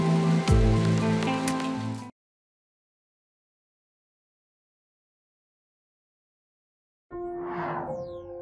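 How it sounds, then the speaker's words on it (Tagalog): Steady broadband heavy rain patter on a flooded classroom, then sudden silence for several seconds before the downpour resumes. "biglang bumuhos ang malakas na ulan"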